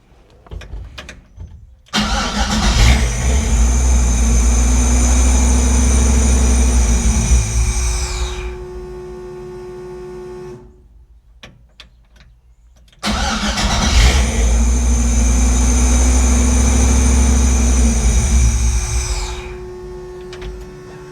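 An engine fitted with an Aces Jackpot 2 fuel injection system cranks and catches twice, each start running rough and loud for several seconds before cutting out, with a quiet pause in between.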